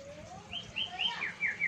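A caged white-rumped shama (murai batu) in a breeding cage gives a short run of sweet rising whistles and chirps, several quick notes close and clear over a quiet background.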